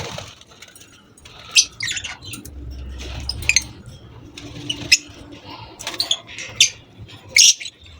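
Aviary budgies, a green pastel cock and hen, make close, sharp chirps and tweets with bursts of wing flapping and rustling, scattered in quick irregular calls.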